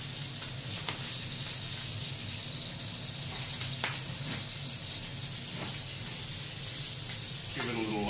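Bulk breakfast sausage and vegetables fry in a pan with a steady, close sizzle and crackle throughout, a few sharper pops standing out over the constant hiss.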